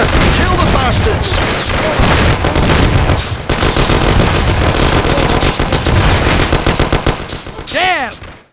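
Heavy gunfire in a shootout from the video game Mafia: The City of Lost Heaven, a dense continuous barrage of rapid shots and bursts mixed with shouting voices, loud and close, ending with a ricochet whine.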